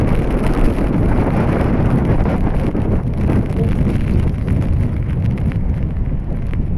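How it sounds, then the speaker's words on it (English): Strong gusty wind roars steadily and loudly ahead of a squall line during Storm Dudley, buffeting the microphone with dense broadband noise throughout, with no speech. "Oh, the power of this wind."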